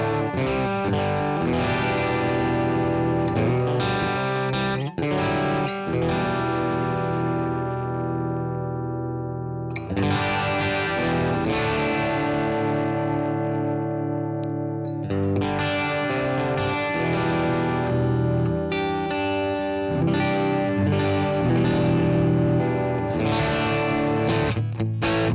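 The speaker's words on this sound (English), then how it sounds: "there's a boost comp pedal here that does both the compression" Electric guitar played through a Line 6 HD500 with a boost compressor pedal engaged, giving a thick, compressed, slightly distorted tone with chorus and reverb. Chords and sustained lines ring steadily and loudly for the whole stretch, with no talking.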